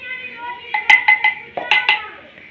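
A clay cooking pot is handled close by, giving a run of sharp clinks and knocks with ringing overtones.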